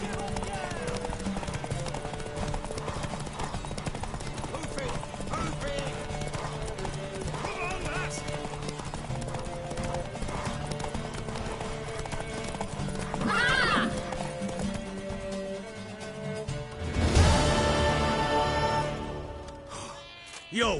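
A mare in The Witcher 3 gallops with rapid rhythmic hoofbeats, then neighs loudly near the end, while voices talk over the action.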